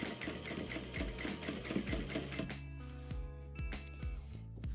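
A sewing machine runs steadily at a 3.5 stitch length, sewing a seam right along the edge of fabric for a ribbed pintuck effect. It makes a rapid mechanical chatter with rhythmic thumps, close and alone.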